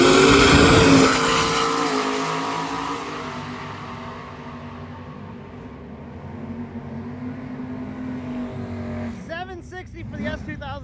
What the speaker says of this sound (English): And then the S2000 that we saw driving this morning, right here at the track, making a pass.